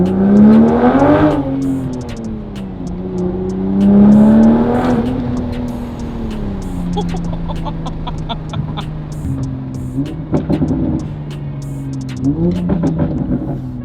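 A Toyota MK5 Supra fitted with an AWE Resonated Touring exhaust revs repeatedly, its loud engine note rising and falling in several swells, heard up close with no talking.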